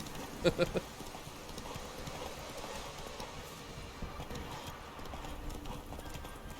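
Horse hooves clopping in The Witcher 3 while riding, a steady quiet rhythmic clip-clop throughout, with a few sharper louder beats near the start and game ambience and speech beneath.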